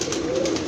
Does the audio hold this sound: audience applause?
no